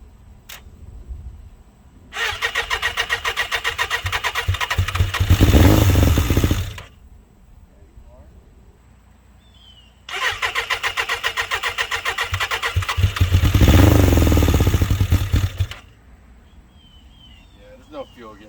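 A cold, lowered 2006 Suzuki Katana motorcycle with a fuel-delivery problem cranks and fires twice, each time revving loudly for a few seconds before cutting out, with quiet gaps between the attempts.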